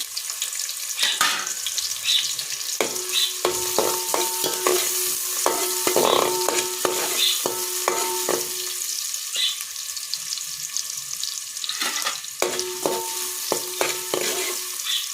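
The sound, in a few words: chopped onion frying and being stirred in oil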